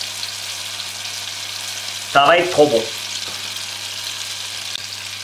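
Caramelized apples frying in caramel in a pan, a brief burst of sizzling and stirring lasting under a second, close and moderately loud, with a voice speaking over it.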